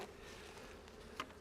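Honeybees buzzing faintly around a farm hive, a soft continuous drone with one brief louder pass of a bee near the end, no voices.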